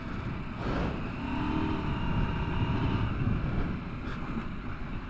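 A 2024 KTM 790 Adventure motorcycle is ridden fast over rough terrain, its engine note rising and falling under heavy wind buffeting at the microphone, fairly faint and muffled.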